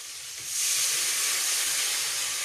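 Okra hits a hot pan of chilli paste, garlic-ginger paste and turmeric, and a loud hissing sizzle bursts up suddenly, then holds steady and close.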